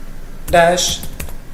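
A command typed on a computer keyboard, a few quick close key clicks with a brief tonal burst in the middle, sparse taps continuing to the end.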